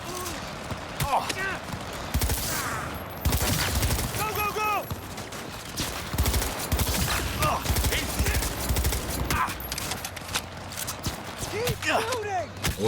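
Gunfire aimed at a turret in Cyberpunk 2077 combat: repeated loud bursts of shots and impacts throughout, mixed with other game effects and someone talking over them.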